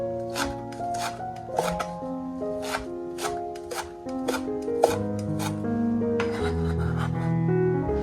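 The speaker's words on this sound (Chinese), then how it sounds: "再准备几根蒜苗切成碎" A knife chops garlic sprouts on a board in a quick, irregular run of close, crisp cuts over a steady tonal background.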